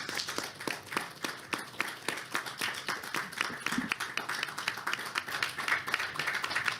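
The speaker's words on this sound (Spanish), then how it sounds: "Un aplauso, por favor, para el poeta." Audience applause for a poet at a book presentation, a steady patter of many hands clapping at moderate distance, dense and even throughout with no voices over it.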